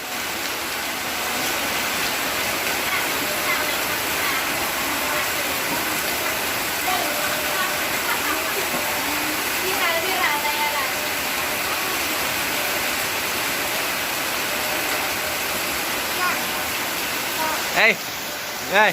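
Heavy rain roars continuously and evenly throughout, a dense wash of hiss with a few faint knocks near the end.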